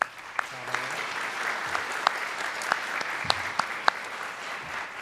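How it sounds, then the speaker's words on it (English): Audience applause fills a high school auditorium at a Junior National Honor Society induction ceremony, a steady dense crowd clapping with sharp individual claps standing out, lasting throughout. "Let's give them a round of applause."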